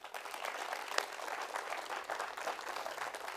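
Steady applause from an audience, many hands clapping at an even level throughout with no one speaking.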